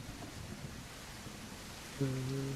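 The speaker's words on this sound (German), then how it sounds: "Es regnet." Rain in the video game Titanic Escape Simulator, a soft steady hiss at low volume, with a brief tonal game chime rising near the end.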